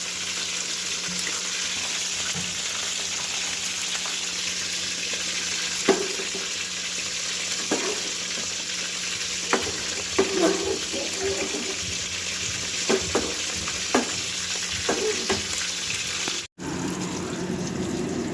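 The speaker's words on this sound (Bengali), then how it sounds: "মাছের পিসগুলো ভাজা হয়ে গেছে" Pieces of fish fry in oil with a steady, close hiss that runs throughout, dotted with small pops and clinks of handling before a brief break near the end.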